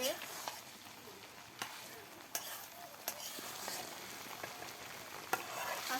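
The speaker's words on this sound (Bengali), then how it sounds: "কষা মাংসের মধ্যে সিদ্ধ করে রাখা বিরিয়ানির চাল দিয়ে দিল। এবার ভালো করে নেড়ে নিচ্ছে।" Boiled biryani rice is stirred into braised meat in a pot, with faint scraping strokes and soft ticks over a steady low sizzle, heard from a distance.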